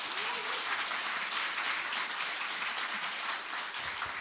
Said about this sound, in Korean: 뜨거운 박수로 맞이하겠습니다